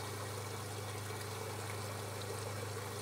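Water running steadily from a 12 V portable hot water shower, a continuous even hiss and trickle at low level, close by and alone with no talk.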